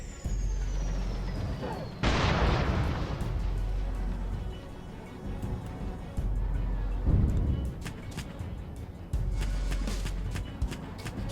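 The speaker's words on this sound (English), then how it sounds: "Yeah, the artillery in this game is really cool. I really do like the artillery effects." Heavy artillery explosions from the PC video game Gunner Heat boom out in several broadband bursts, each followed by a rumbling tail over a steady low battlefield drone.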